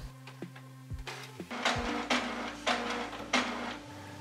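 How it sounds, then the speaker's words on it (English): A Canon PIXMA TS6500-series inkjet printer runs its start-up cycle after new ink cartridges are installed: a low motor hum, a few soft clicks, then repeated mechanical whirring and sliding passes of the carriage, quiet and close. "Close the cover, and for a few minutes the printer will make some noise."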